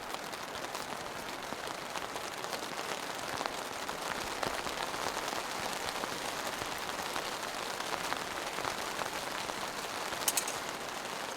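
Steady rain drums on a tent and tarp during a winter storm, a dense, continuous patter close by with no talking.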